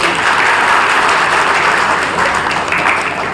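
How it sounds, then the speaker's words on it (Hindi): Loud, close audience clapping at a Brahma Kumaris spiritual talk, a dense continuous burst of many hands that holds steady throughout. "ताली बजा दो अगर अच्छा।"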